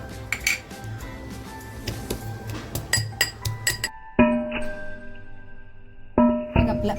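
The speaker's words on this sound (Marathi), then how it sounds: "मी लसूण आणि अद्रक घेतलेलं आहे ते खलबत्त्यामध्ये टेचून घेणार आहे" Garlic and ginger pounded in a mortar and pestle while making butter chicken: a run of sharp, clinking strikes, then two heavy blows that leave a metallic ring, close up with no talking.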